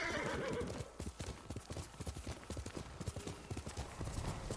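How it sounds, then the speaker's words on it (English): A horse in the samurai game Ghost of Tsushima gallops with a steady, loud rapid clip-clop of hooves, opening with a neigh at the start and continuing alone at a run. "Call the horse."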